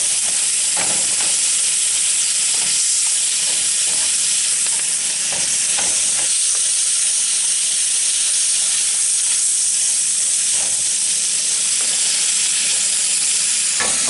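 Philly cheese steak meat sizzles loudly and continuously on a griddle while being shredded, with scattered sharp scrape and tap strokes from a spatula over the constant hiss, and no voices.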